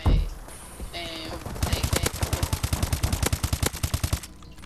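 Rapid automatic gunfire from Call of Duty: Advanced Warfare multiplayer, with an AK-12 in use, a fast steady stream of sharp close shots lasting about two and a half seconds after a few scattered game effects, with no talk over it.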